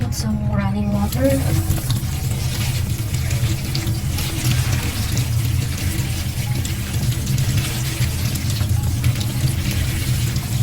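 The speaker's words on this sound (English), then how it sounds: "put some running water." Tap water runs steadily over drained spaghetti in a sink, a continuous splashing wash that carries on throughout, with a voice briefly audible at the start.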